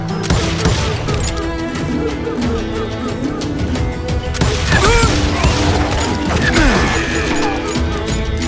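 Dense gunfire fills a Call of Juarez: Gunslinger shootout, loud and continuous with overlapping shots and impacts layered over game music and effects, brief voices calling out in the middle.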